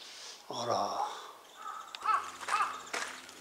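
Crows caw loudly in a few harsh, rasping calls close overhead, with a brief human voice mixed in.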